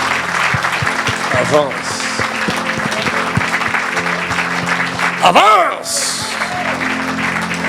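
A church congregation cheers and applauds the Lord, steady clapping and crowd noise running throughout while a preacher's voice calls out over it.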